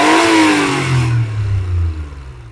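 A Damas minivan fitted with an injector engine revs hard and close, the engine note climbing then falling away as the throttle drops back to a low steady rumble.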